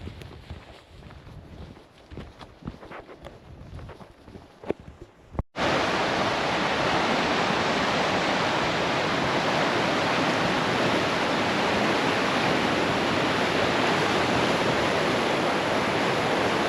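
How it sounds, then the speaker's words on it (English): Scattered quiet clatter and knocks, then a sudden cut to a loud, constant rush of a flowing river near Grövelsjön, Sweden, that fills the rest without change. "Beautiful river."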